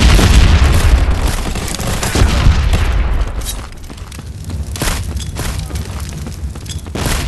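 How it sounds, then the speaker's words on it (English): A grenade goes off in a tournament battle video game, with a loud, rumbling boom followed by a sustained roar of blast noise and scattered cracks that slowly fades. "Grenade out!"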